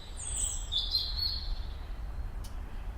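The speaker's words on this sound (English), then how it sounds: "at this time of year the birds are singing away" Birds sing from a hawthorn hedgerow at a wetland reserve in breeding season, with a few thin high chirps and a brief trill standing out faintly against a low steady background rumble, heard from some distance.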